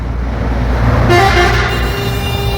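A car horn honks on a road from about one second onward, a sustained toot over steady traffic and engine rumble, loud and close, with other vehicles around.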